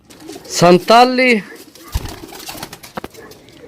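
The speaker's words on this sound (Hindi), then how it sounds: "कमाल ना कबूतर है यार।" A pigeon coos twice in quick succession, loud and close, followed by softer rustling and faint knocks while someone talks.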